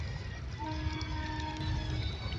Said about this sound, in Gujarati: જોવો ટ્રેન જાય માલગાડી છે